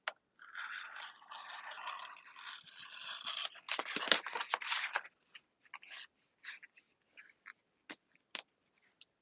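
Scissors cutting a section of sticker vinyl, a sustained crisp scraping crunch for a few seconds, then a series of short separate snips with silent gaps, close up and alone.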